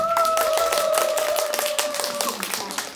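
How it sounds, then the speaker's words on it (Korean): Audience clapping to welcome a speaker at a brain-education symposium, brisk close applause from a modest crowd with a faint sustained tone underneath, fading slightly toward the end. "강사분 큰 박수로 모시겠습니다"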